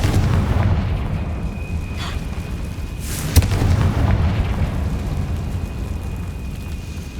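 Confringo fire spell blasting in Hogwarts Legacy, a booming explosion over a dense rumbling game background, with one sharp burst near the middle, loud and close.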